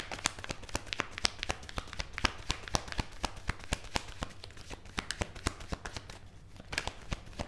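Tarot cards are shuffled and drawn by hand close up, making a fast, continuous stream of crisp papery flicks and slaps that run throughout at moderate loudness.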